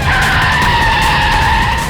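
A driverless car skids with a sustained, loud tire squeal over a roaring engine, one unbroken screech held close for nearly two seconds, no voices.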